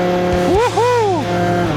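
Modified Yamaha Aerox two-stroke scooter engine, tuned from 3 to 10 horsepower, loud and close as the revs climb into the power band with a rising then wavering whine, a constant buzzing drone underneath.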